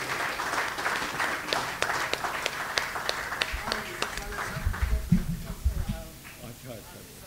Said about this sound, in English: we need one more round of applause for Ustad ji